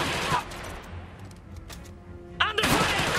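In an Iron Harvest battle, bursts of gunfire crack out at the start and again near the end, separated by a quieter stretch of scattered shots and battle noise.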